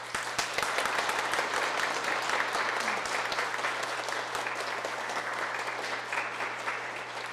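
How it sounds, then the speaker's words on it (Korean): Sustained applause from a church congregation at Wondang Catholic Church during Sunday Mass, dense steady clapping filling the space without a break from start to finish. "큰 박수로 앞으로 모시겠습니다"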